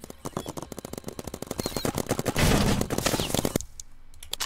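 Sentry gun firing in a paintball-style video game, delivering a fast, continuous burst of rapid shots that build to a dense roar before cutting off, loud and close with no talk.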